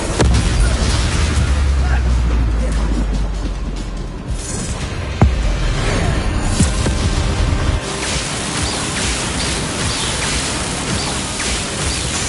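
A Confringo fire spell explosion in Hogwarts Legacy, a loud, dense roaring blast with a sharp crack midway and rumbling noise filling the whole stretch, while voices sound underneath.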